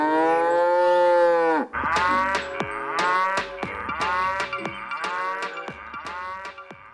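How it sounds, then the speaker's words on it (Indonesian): A cow gives a long, loud, low moo that drops off abruptly, and then several shorter, choppy moos and grunts follow close together. "Wahai, lihat ini sapi."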